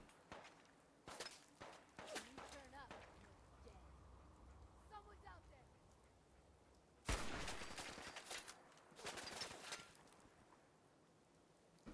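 Fallout 4 gameplay carries scattered sharp gunshots and impacts, with a quiet stretch in the middle and a loud cluster of shots later, set against soft background game sounds and a voice talking.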